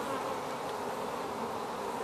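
Honey bees in an open hive during a beekeeping open night, a dense, continuous buzzing hum from many insects at close range, steady and unbroken with no talk.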